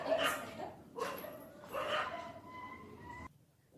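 A dog barks in repeated loud bursts, three clear yelps spaced about a second apart, close by and over a lecture setting, then the sound cuts off abruptly.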